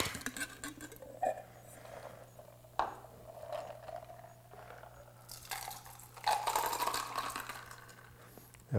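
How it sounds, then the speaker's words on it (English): A Mai Tai cocktail is poured from a slightly oversized Boston-style shaker into a glass, with splashing and ice rattling in a few bursts over a low background hum. "Pour that straight into the glass again."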